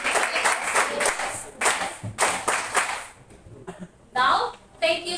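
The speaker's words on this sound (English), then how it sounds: "let's give them a best clap." Students in a classroom clap for their classmates who have just presented. The clapping comes in uneven bursts that stop and start, separated by brief gaps, and a few voices and sharp slaps are mixed in.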